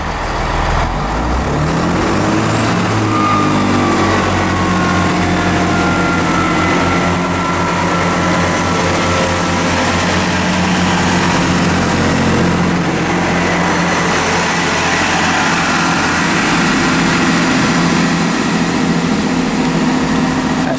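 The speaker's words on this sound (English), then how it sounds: "departing now is the 1525 Great Western Railway service from Basingstoke to Reading" A Great Western Railway train departs Basingstoke for Reading, its engine swelling into a loud, sustained drone with a rising whine as it pulls away, heard alone.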